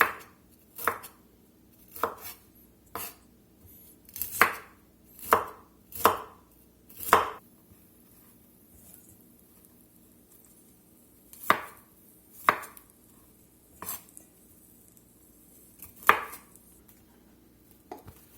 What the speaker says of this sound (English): And we'll chop our florets up here.